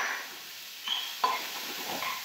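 Hot chili pepper and onion fry quietly in a pan, a soft sizzle with a couple of sharp utensil clicks against the pan as it is stirred.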